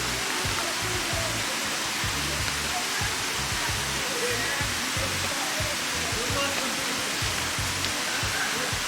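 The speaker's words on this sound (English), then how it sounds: "you have these little fountains to refresh yourself, and it's always streaming water" A public drinking fountain in a city square pours a steady, close stream of water that splashes without pause, with faint voices in the background.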